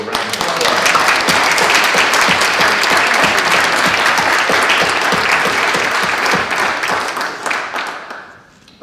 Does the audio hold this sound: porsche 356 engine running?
no